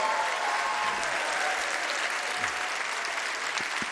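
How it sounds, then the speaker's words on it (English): Steady applause from an audience at a football awards gala in a church hall, honoring a high school marching band, a dense even wash of clapping held throughout at a moderate distance. "How about a round of applause for Eastlake's marching band under the direction of Randall McCrae?"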